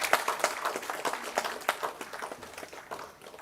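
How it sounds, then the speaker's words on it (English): An audience at a science festival prize-giving in Goa applauds an essay award winner, with dense, continuous handclapping in a hall that gradually thins and fades toward the end. "So big round of applause for Madhusudan Hasbe"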